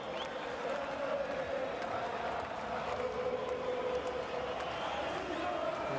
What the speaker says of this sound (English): those fans in dark green stand to applaud him